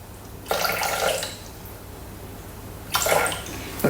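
Water is poured into a Thermomix bowl for bread dough in two short gushing bursts, each about a second long, close and fairly loud, with a quiet pause between them.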